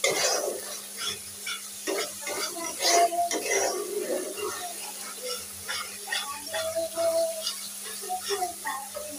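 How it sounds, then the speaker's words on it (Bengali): Spices being stirred and fried in a pan during home cooking, a scraping, sizzling clatter of utensil against pan with faint tones, mixed with some background voices. "এখানে মশলা কষিয়ে নিচ্ছি।"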